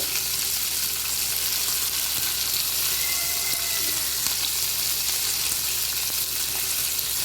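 Roughly chopped onion frying with garlic in a pot for tomato rice, a steady close sizzle with faint occasional clinks of stirring.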